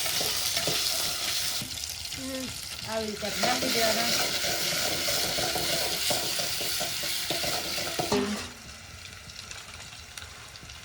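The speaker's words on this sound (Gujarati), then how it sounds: "આપણે આ બટેકા પેલા તળી લેવાના તેલમાં બટેકા નાખી દીધા છે" Potatoes sizzle steadily in hot oil in a pan while being stirred for batata poha, with scraping stir sounds and a voice speaking over them; the frying grows quieter near the end.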